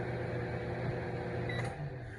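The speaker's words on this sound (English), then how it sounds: "we take it out the microwave" Steady microwave oven hum, running continuously while potatoes are being cooked in a home kitchen, with a faint brief tone near the end and no talking.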